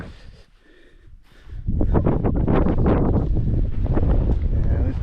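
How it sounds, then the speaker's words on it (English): Strong wind buffets the microphone on a Scottish Munro summit beside a collapsed stone windbreak, starting as a quieter rush and then surging into loud, continuous gusting roar. "although it's very windy this direction just now"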